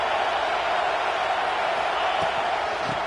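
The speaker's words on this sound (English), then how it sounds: "And here comes the noise. This crowd is trying to inspire this defense to make a big red zone stop." A football stadium crowd roars in a steady, loud wash of cheering noise during a red zone defensive stand, sustained without a break.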